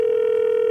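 A steady, unbroken telephone tone sounds while a call is placed to a caller on a comedy TV show, loud and clear with no speech over it.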